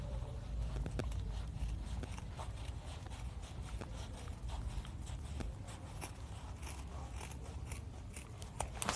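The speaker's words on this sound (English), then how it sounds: "I still have to cut it very nicely here also" Scissors cut through old denim from a pair of jeans while oven gloves are being made, heard as faint, close crunching snips in an irregular series under a low background hum.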